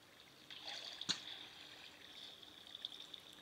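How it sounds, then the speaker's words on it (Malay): Flowing water in Minecraft trickles softly and steadily, faint and distant, with one brief tap partway through. "itu adalah air mengalir"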